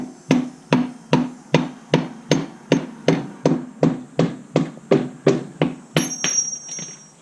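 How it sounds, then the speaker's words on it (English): Rubber mallet driving a motorcycle rear axle on a Harley Road Glide, about sixteen evenly spaced, solid thuds in a steady rhythm, close and loud, with a brief metallic ring near the end. "now I'm going to get this axle moving with my rubber mallet"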